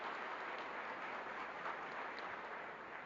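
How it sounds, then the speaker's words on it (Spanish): Spontaneous applause from an auditorium audience at a binational panel discussion, a continuous, fairly soft and distant patter of clapping that stays even from start to finish. "el aplauso espontáneo que te dio el auditorio"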